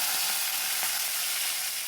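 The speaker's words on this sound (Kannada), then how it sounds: "ಒಗ್ಗರಣೆ ಅಂದ್ರೆ ಮೇಲೆ ಬೇವಿನ ಸೊಪ್ಪು ಇಲ್ದಿರತ್ತಾ" Curry leaves crackle and sizzle in hot tempering oil with garlic for a dhaba-style dal, a steady bright hiss running throughout at close range with no voices.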